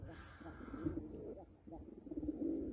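Pet pigeons coo in soft, low murmuring bursts close by, with some background noise and possible voice mixed in.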